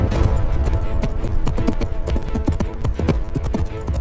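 A mare galloping at speed, her hooves clip-clopping in a steady, rapid rhythm, loud and close throughout with no voices.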